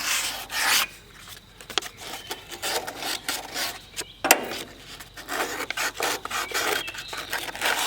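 Light scuffing of a part on a Wood-Mizer LX25 sawmill to clear debris, a dry rasping rub in repeated strokes close to the mic, with a few sharp clicks in between and no talk.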